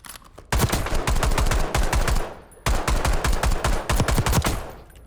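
Boiling Point blueprint gun firing in Black Ops 6, loud rapid automatic bursts in two long strings with a brief pause between, close and dominant with no talk.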